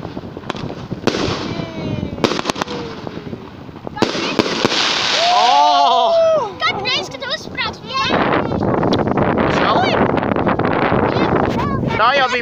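New Year fireworks burst outdoors in a dense, loud barrage of cracks and booms, with whistling rockets and crackling, wind rumbling against the microphone and excited voices calling out between blasts.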